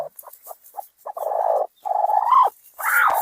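A hen clucks in short repeated notes, then gives several longer drawn-out squawking calls, close and clear against a quiet background.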